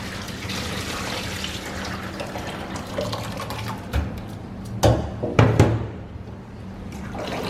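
Water sloshing and pouring as sticky rice is rinsed by hand until the water runs clear, close and continuous with a few louder splashes toward the end.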